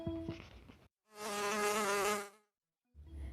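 A mosquito's whining buzz rises and holds for about a second and a half, loud and close, sounding alone between two shorter bursts of other sound.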